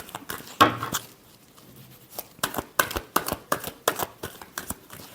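Tarot cards shuffled by hand in quick, uneven bursts of papery riffling and slapping, with short pauses between the bursts, close and moderately loud.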